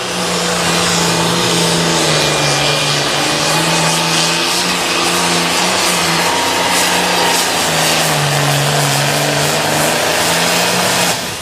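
A pulling tractor revs hard at a tractor pull at the Sandwich Fair in Illinois, a loud, sustained engine roar with shifting pitch that holds steady for the whole stretch, with no talk over it.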